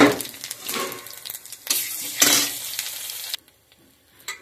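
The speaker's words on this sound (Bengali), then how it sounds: "তেল গরম হয়ে গেছে, তেলে আমি জিরে আর শুকনো লঙ্কা ফোড়ন দিয়ে দিচ্ছি।" Cumin seeds and dried red chillies hit hot oil in a wok and sizzle and spit loudly in bursts, stirred in surges. The frying stops abruptly, leaving near quiet.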